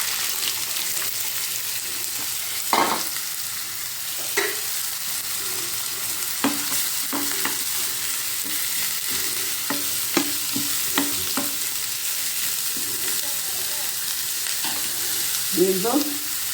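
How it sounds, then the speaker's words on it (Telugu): Onions dropped into hot oil for mutton keema give a steady, close sizzle of frying, broken by short clinks and scrapes of a spoon stirring the pan. "ఈ ఆనియన్స్ వేస్తాను."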